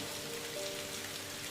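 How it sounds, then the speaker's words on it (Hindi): Heavy rain in a cartoon falls as a steady, dense patter over a constant wash of noise, with a faint sustained tone running underneath and no voices. "इतनी तेज बारिश हो रही है"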